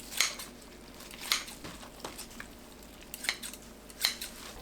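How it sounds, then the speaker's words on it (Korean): Kitchen scissors snip through long soaked seaweed (miyeok), making five or six sharp, quiet cuts at an uneven pace close by with no talking. "긴 미역을 잘라주세요."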